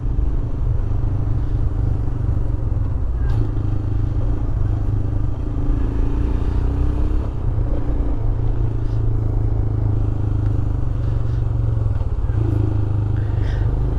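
Royal Enfield Himalayan motorcycle riding on a road trip from Coimbatore to Kodaikanal, with a steady engine drone and continuous wind rumble up close, plus occasional clatter and scrapes, no talking.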